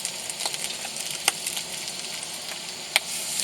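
Tuna steak sizzling in a frying pan, a steady close crackling hiss with occasional sharper pops, no voices.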